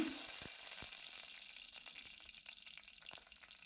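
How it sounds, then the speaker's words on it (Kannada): Mustard seeds and broken dried red chillies sizzling in hot oil for a betel leaf rasam, a faint steady frying hiss with small pops and crackles scattered throughout. "ಎಣ್ಣೆ ಕಾದಿದೆ ಸಾಸಿವೆನ ಹಾಕ್ಕೊಳ್ತೇನೆ ಹಾಗೆಯೇ ಒಂದೆರಡು ಒಣಮೆಣಸಿನ್ಕಾಯಿನ ಮುರಿದು ಹಾಕ್ಕೊಳ್ತಾ ಇದ್ದೇನೆ"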